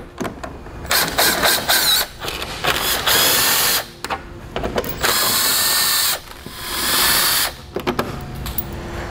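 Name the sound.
ratchet removing 10mm bumper bolts on a Ford Taurus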